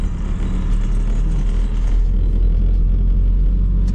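A car cruises along a road, heard from inside as a loud, constant low rumble with road and engine noise and no talking.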